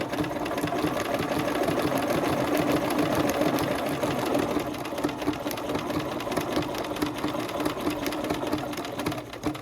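A sewing machine stitches a leaf for a Christmas garland, its needle running in a fast, steady mechanical chatter close up, with brief slowdowns as the fabric is turned.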